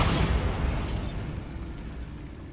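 The Bombarda explosion spell is cast in Hogwarts Legacy, setting off a sharp, loud blast at the start that rolls off into a rumbling decay over a couple of seconds.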